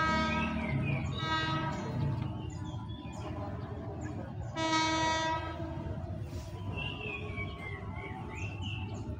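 A KRL electric commuter train from Jatinegara passes near Manggarai station, its rumble steady beneath two loud horn blasts, with birds chirping faintly and squealing rail sounds in the background.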